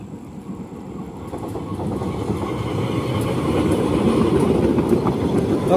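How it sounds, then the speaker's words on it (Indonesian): Serayu passenger train K251 hauled by a CC203 diesel locomotive passing on a curving line through the hills of West Java, its rumble and rhythmic wheel clatter building steadily louder as it nears. "Nah itu dia kereta api Serayu dengan nomor K251."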